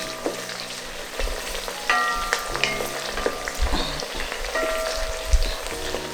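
Onions frying in oil in a pot for Ghanaian jollof rice, a continuous close sizzle with scattered pops and occasional clinks of a stirring spoon against the pan.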